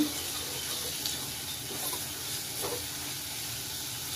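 Ginger-garlic paste sizzling in hot oil during paneer bhurji preparation, a steady, moderately quiet frying hiss with faint spatters that holds evenly for about four seconds, with no voices.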